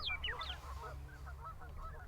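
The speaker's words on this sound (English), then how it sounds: "look at all those mallards and pintails and widgeons" Flock of wild ducks, including mallards, pintails and widgeons, calling on wetland in winter weather: a busy overlapping chorus of honks and quacks, loudest at the start, then scattered calls continuing over a steady low rumble.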